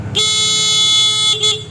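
A homemade motorcycle alarm blares from a motorbike, a loud continuous electronic horn tone lasting over a second, close by, with a short rising blip near the end.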